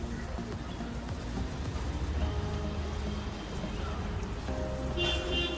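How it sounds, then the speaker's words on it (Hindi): Bonsai trees being watered thoroughly, a steady close hiss and patter of water spraying over foliage and soil, continuous throughout with a voice speaking briefly over it. "So we are going to water it thoroughly."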